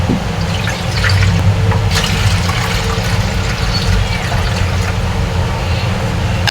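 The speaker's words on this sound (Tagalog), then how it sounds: "Ngayon, ilalagay na natin yung pangalawang gata." The second batch of coconut milk pours into a pot of crab and mixed vegetables, making a loud, continuous liquid gush and splash with a low, rumbling undertone.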